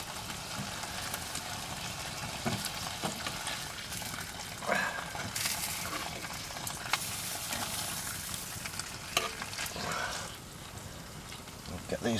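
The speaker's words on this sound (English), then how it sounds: "I decided to have a bit of a fry up for my supper." Mushrooms frying in a pan on an Outbacker wood stove inside a lavvu tent, a continuous close sizzle and crackle with occasional clinks of utensils.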